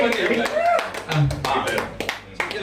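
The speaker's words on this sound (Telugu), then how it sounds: "క్లాప్స్ ఆలాడు క్లాప్స్ కొట్టండి." People clap at a school friends' reunion get-together at a farm house, with scattered, uneven claps mixed with voices and loud talking nearby.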